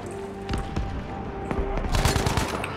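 Battlefield 5 gameplay gunfire: several sharp shots crack out at moderate level, spaced over a couple of seconds, ending in a denser rapid cluster over a faint background hum.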